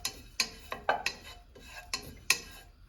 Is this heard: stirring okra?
yes